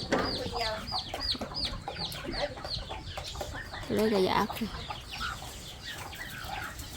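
Chickens cluck repeatedly in a busy, rhythmic stream nearby, with a person speaking briefly in Thai over the birds.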